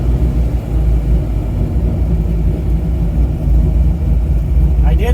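A car engine idles with a steady low rumble, the tone holding even throughout and a faint rising whine near the end.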